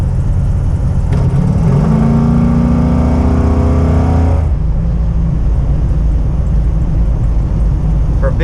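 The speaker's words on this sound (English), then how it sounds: "For a big heavy truck, this thing gets up and goes." Square-body Chevrolet C30 truck with a 632 big-block V8 and Holley Sniper fuel injection accelerates hard, its deep engine note climbing steadily for a few seconds before lifting off into road and cabin noise.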